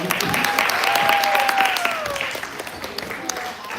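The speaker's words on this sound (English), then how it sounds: "everyone give her a round of applause." An audience at a live career-development seminar claps in a dense burst of applause that gradually thins and fades, while a voice speaks over the clapping.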